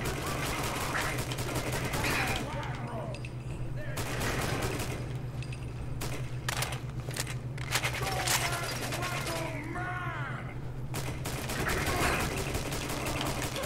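Rapid gunfire bursts in Fallout 4, dense volleys and separate shots crackling loudly across the whole stretch over a steady low hum.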